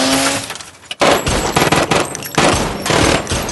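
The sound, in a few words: gunfire in a film scene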